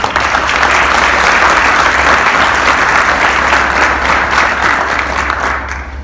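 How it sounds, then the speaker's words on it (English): An audience at APG's 2019 Martin Luther King Jr. event gives loud, sustained applause for the keynote speaker, with dense clapping filling the hall before it starts to taper off at the end. "How about a round of applause for him?"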